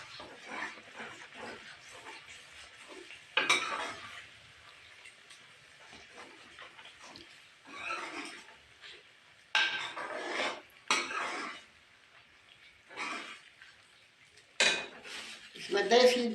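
Chana dal being stirred and mashed in a cooking pot with a spoon, heard as intermittent clattering and scraping bursts against the metal, moderately close, with pauses of quieter rustling between strokes.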